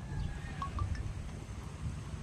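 Seaside wind at a beach getaway in Nasugbu, a steady low broadband rush with soft gusting, with faint higher chirps above it and no speech.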